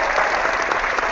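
A short burst of a canned applause sound effect, a dense, even wash of crowd clapping playing continuously at steady loudness throughout.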